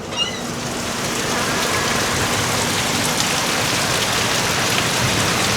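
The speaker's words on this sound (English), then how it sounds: "Update on the rain situation." Steady, dense rain pours down outside, a continuous hiss of drops hitting surfaces at an even volume throughout, with no voices.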